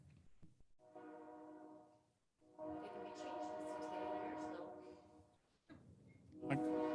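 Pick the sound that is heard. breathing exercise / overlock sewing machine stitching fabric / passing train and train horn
passing train and train horn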